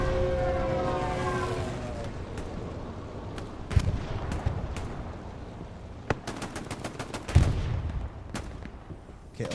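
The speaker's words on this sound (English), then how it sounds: "Stuka." During a Hell Let Loose match, a Stuka dive bomber attack is heard as a descending whine early on, then scattered gunfire, sharp cracks and distant machine-gun bursts over a low battlefield rumble.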